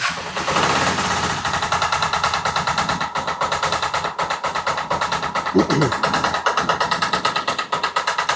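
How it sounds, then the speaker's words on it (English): A 1984 Yamaha Riva 180 air-cooled scooter engine runs steadily and loudly up close with a rapid, even mechanical rattle that could be knocking, and a brief squeal cuts in near the middle. "I hope it's not a knocking in the engine, because it seems very loud."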